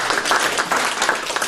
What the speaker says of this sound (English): a round of applause for Aviva for their support in this